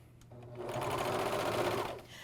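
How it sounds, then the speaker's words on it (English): AirThread 2000D professional serger overlocking a fabric edge while sewing a bathrobe, a single fast whirring run of about two seconds, close and fairly loud, starting and stopping cleanly. "All you do is serge the edge of it all the way around for a nice professional look"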